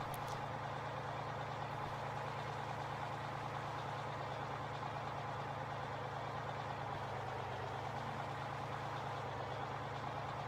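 A tractor engine in Farming Simulator 15 drones steadily as it drives over crops, a constant, even hum with no pauses and no voices.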